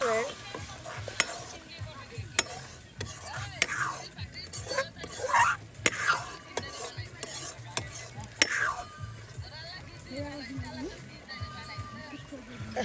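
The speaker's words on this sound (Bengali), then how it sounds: "বেশ সময় নিয়ে কিন্তু মশলাটি একদম কষানো মজানো হচ্ছে" Spice paste for meat pasta being fried and stirred in an outdoor village kitchen, with quiet sizzling and repeated scraping and clinking of a utensil against the pan, heard close up.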